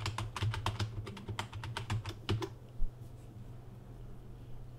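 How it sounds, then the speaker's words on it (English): Keystrokes on a computer keyboard as a keyword is typed into a search box: a quick, close run of crisp clicks for a couple of seconds, then quiet over a low steady hum. "I'm gonna type cryptocurrency here and let's see what it shows us"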